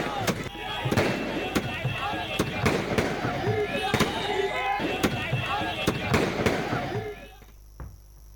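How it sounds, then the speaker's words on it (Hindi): Fireworks and firecrackers burst in city streets during celebrations of India's cricket win, a run of sharp loud bangs every half second or so over crowd noise and voices, fading out near the end. "दून वासियों ने सड़कों पर आतिशबाजी करते हुए भारत की जीत का जश्न मनाया"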